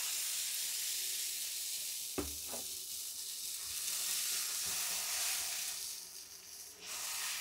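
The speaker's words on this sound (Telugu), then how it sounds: "ఇలా దలసరి పెనం మీద వేసుకుంటే బాగుంటుంది" Thick Mulbagal dosa batter hisses and sizzles as it spreads over a hot pan, a steady frying crackle with a couple of brief knocks and a louder steamy rush near the end, no voices.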